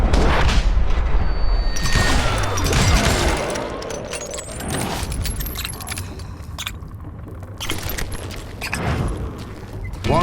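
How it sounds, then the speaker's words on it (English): A mine explosion in the video game Call of Juarez: Gunslinger: a loud, deep blast followed by rolling rumble and scattered debris crashes, with further heavy booms swelling and fading through the clip. "All it takes is one tiny spark, and boom."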